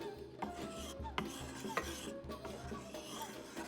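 A spoon scrapes and taps around a bowl, stirring ingredients for Moroccan roasted beets with pistachios and pomegranate seeds, soft rhythmic rasping with a few light clinks, close and quiet, no talking.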